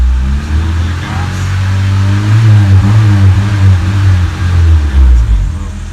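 A Honda Civic EG fitted with 850cc injectors and running slightly rich revs up nearby, its engine note climbing into a loud, throaty hum that holds steady for several seconds.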